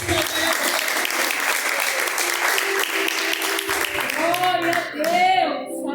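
A church congregation claps steadily in unison during a worship service, with loud, dense applause filling the room and voices mixed in underneath.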